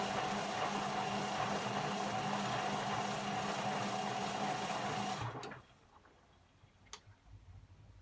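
A Beko WM5100W washing machine on a spin cycle gives off a loud, steady mechanical whir with a rapid ticking rattle, then cuts off abruptly, leaving faint room noise and a single brief click.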